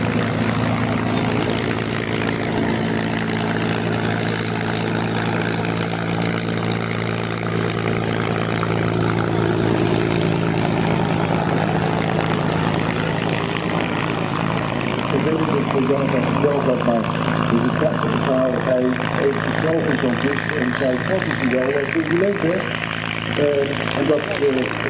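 A propeller aircraft flies at an airshow in Oostwold, its engine drone loud and steady throughout, with a rising pitch sweep near the end.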